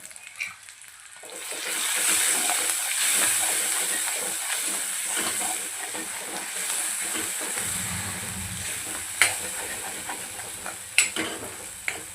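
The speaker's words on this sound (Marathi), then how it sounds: "मसाला छान असा परतून घेऊया" Masala for chana dal tadka sizzles steadily in a pan, a bright continuous hiss with occasional scraping stirs and a couple of sharper clinks near the end, close by and without speech.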